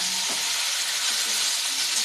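Sizzling and frying in mustard oil, with a steady broadband hiss and faint stirring scrapes, for a paneer and chicken masala curry.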